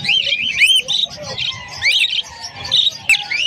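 African lovebirds at a Malabon pet market chirping and tweeting nonstop, bright overlapping calls close by, with faint market background beneath.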